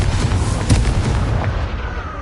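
Confringo fire spell blasting in Hogwarts Legacy on PS5: a loud, sustained explosive burst with a sharp boom near the middle, rumbling continuously and fading slightly toward the end, with no talk.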